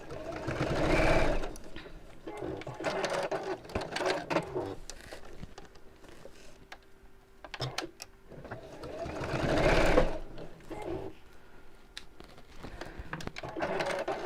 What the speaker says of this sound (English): Just going to sew those in place.